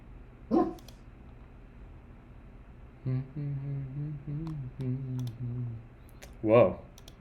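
Dog barking indoors: two sharp, separate barks several seconds apart, with a person speaking briefly between them.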